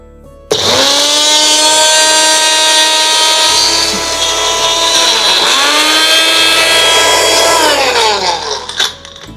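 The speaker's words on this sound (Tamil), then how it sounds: "பப்பாளி இலை எடுத்து அதோட நரம்புகளை நீக்கிட்டு நம்ம அரைச்சி சாறு எடுத்துக்கலாம்" A mixer grinder whirs as it grinds papaya leaves with their veins removed and a little water for juice. The loud, steady motor whine starts abruptly, dips briefly midway, then winds down near the end, with no talk.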